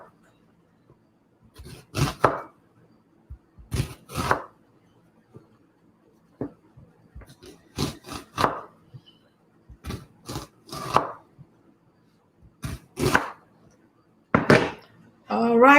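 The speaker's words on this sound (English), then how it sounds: "As it's boiling, I'm going to do the onions." Onions being chopped on a cutting board in a home kitchen while something boils, heard as clusters of sharp, close knife strikes separated by short pauses.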